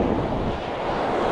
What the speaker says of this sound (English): like you can hear, it's pretty windy out here